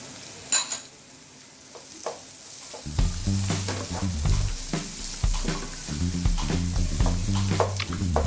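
A mixture with coriander, being cooked for an egg omelette, hisses and crackles in a hot pan as a spatula scrapes and stirs through it, giving a busy, close sizzle with irregular clacks after a quieter start.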